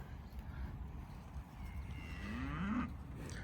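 Cattle moo in an open field where a farmer is checking his herd and looking for a blue bullock, giving one drawn-out, rising low call over steady outdoor background noise, fairly close.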